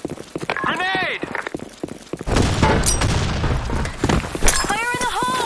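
A grenade explodes in the game Broken City with a loud, sustained booming blast and rumble, amid gunfire and game sound effects, with voices shouting before and after.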